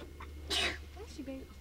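One sharp sneeze bursts out nearby, a short explosive puff, with soft voices murmuring around it.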